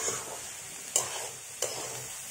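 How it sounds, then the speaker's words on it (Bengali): Banana stem frying in a pan as it is stirred: a steady soft sizzle with three sharp scraping strokes of the spatula spaced about a second apart, close and fairly quiet, no voices. "এটা ভালো করে আমি নাড়াচাড়া করতে থাকব, একটু ভাজা ভাজা হবে এটা।"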